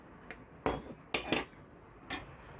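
A walnut shell cracking open, four or five short, sharp snaps in quick succession, close up and fairly quiet, with no voices.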